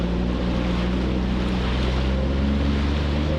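Yamaha WaveRunner personal watercraft running through big, windy waves on Lake Winnipesaukee, a steady close engine drone blended with wind and water rush, continuous and loud throughout with no voices.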